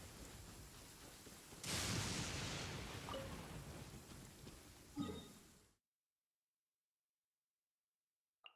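Steady rain hisses loudly in the Fontaine region of a video game, swelling suddenly and then fading, with a brief thump near the end before the sound cuts to silence.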